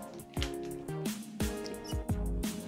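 A few drops of Aktara insecticide squeezed from an ampoule land with soft wet plinks and squishes, quiet and close, several small drips in an uneven rhythm.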